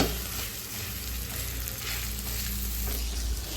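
Onions fry in a pan for onion rice, a loud continuous sizzle with stirring scrapes over a low steady hum, close and without talk.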